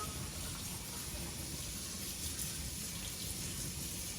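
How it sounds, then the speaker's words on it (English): Tap water runs steadily into a kitchen sink, rinsing cooked spaghetti, a constant faint hiss and splash with no talk. "I'm gonna go like that and just rinse off some of that starchy water."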